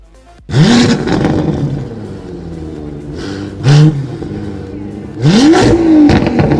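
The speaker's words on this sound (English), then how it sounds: "Enthusiasts love the roar of an Aston Martin engine" An Aston Martin sports car engine roars in three loud bursts, revving up sharply each time with a lower rumble idling in between.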